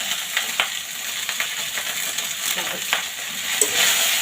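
Spices get stirred into pasta frying in oil in a home kitchen pan, a steady sizzle with scattered light scrapes and clinks of the spoon against the pan.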